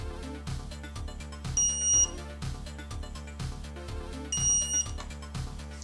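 Electronic beeping from a stud detector scanning metal in a person's arm repeats in a steady pulsing rhythm, with two brief higher-pitched tones rising above the regular pattern.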